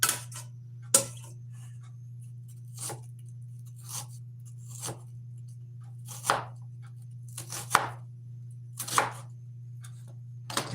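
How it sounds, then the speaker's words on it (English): Onions being chopped on a board by knife, with about a dozen sharp, irregular cuts spread over several seconds, sitting over a steady low electrical hum in an otherwise quiet room. "Chopping onions."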